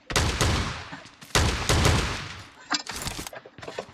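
Shotgun fire in the PUBG Mobile video game comes as loud, close, rapid booming blasts in clusters. Short pauses separate the clusters, and the shots are overlaid with game noise.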